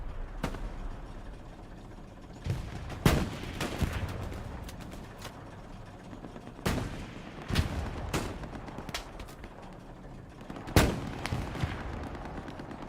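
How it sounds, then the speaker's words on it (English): Gunfire in the Hell Let Loose video game: scattered single shots and short bursts, some sharp and close, others duller and farther off, set against a low battlefield rumble. "There are rounds coming from right there."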